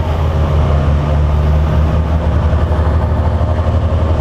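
Kawasaki ZX6R motorcycle from 2019 running steadily in first gear, a continuous low engine drone with a smooth, even tone and no talk over it.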